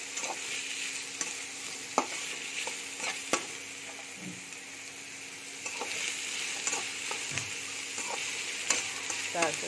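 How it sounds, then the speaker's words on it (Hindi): Onions softening in hot oil in a pan for a spicy bhindi fry, a soft steady sizzle broken by sharp clinks and scrapes of a spoon stirring, fairly quiet and close. "अब प्याज फ्राई करना है, अच्छे नरम होना है"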